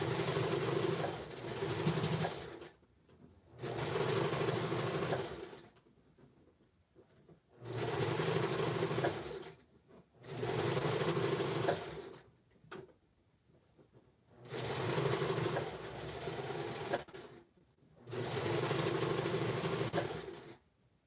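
A sewing machine runs zigzag stitches on sweater-knit mittens in six loud, steady bursts of about two seconds each, separated by short quiet pauses, with no one talking.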